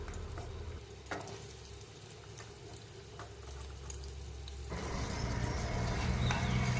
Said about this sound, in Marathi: तेलामध्ये कांदा टाकायचा आहे